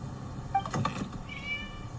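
A cat in the Genshin Impact video game meows once or twice with a short, high, slightly strained cry, fairly close, over a quiet synthetic background hum.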